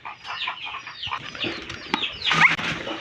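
Chickens cluck nearby in quick, overlapping bursts, with a sharp squawk and some wing rustling toward the end.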